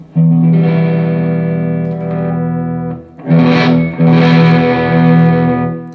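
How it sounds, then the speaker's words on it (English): Electric guitar played through the dirty channel of a Laney LT20H amp, giving loud, distorted sustained chords that ring out, break off around the three-second mark, then return with brighter, gritty strums. "It's into the dirty channel, so I'll just let you have a listen to that."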